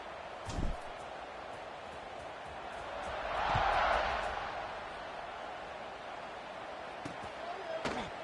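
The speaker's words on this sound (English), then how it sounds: "They're set to kick it off, and this crowd now ready to get behind them." Stadium crowd in a college football video game swells into a cheer at kickoff, a broad roar rising mid-clip and fading, with a few sharp thuds around it.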